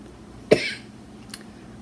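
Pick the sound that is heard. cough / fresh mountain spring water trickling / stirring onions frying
cough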